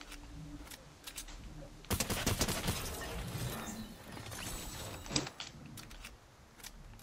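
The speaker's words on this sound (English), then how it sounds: "He was shooting the robots." Faint rattling gunfire in Fortnite as robots are shot, starting with scattered clicks, then a sustained burst of rapid shots that fades into a softer mechanical clatter.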